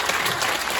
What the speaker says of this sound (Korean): 지사님에게 우리의 성원을 한번 박수 한번 보내주시기 바랍니다